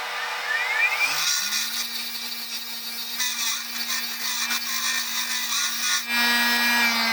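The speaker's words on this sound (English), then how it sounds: "I'm going to come over to the grinder and I'm going to put a point on" A shop grinder putting a sharp point on a metal piece: a steady high whine that spins up after a second and holds loud and close with gritty rasping of metal on the wheel.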